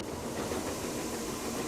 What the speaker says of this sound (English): There's a hissing noise.